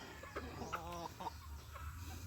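Darag native chickens in a backyard range house give a few soft, scattered clucks and short calls, faint and fairly close, over a quiet background.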